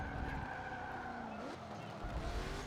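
Race car in an oval-track racing video game braking late and skidding, a sustained tire squeal over the droning engine, loud and steady for a couple of seconds.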